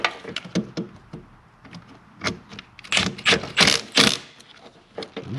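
Tightening a new bolt on the fusebox auxiliary stud of a 1996 Impala SS, with a series of close, irregular ratchet clicks and metallic rattles, louder bursts near the end.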